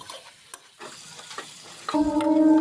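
Ginger-garlic paste with turmeric, chili powder and salt being stirred and fried for a Bengali ol kochu stalk dish, soft scraping stirs that give way to a sudden, louder sizzle near the end.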